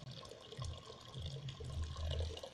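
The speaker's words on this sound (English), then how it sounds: "now more than 4 liters of water have left my solar heater" Water runs steadily out of the pipe of a homemade solar water heater, a soft continuous gushing and splashing with low burbling, faint and close throughout.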